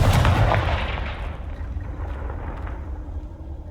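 A heavy fire-spell blast in the Hogwarts Legacy video game: a loud booming burst up close that rolls off into a long, fading rumble.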